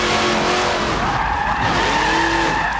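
Tires squeal and skid as an all-wheel-drive Dodge from the Fast and Furious films is thrown sideways into a drift in Forza Motorsport 7, with a loud continuous screech over the engine.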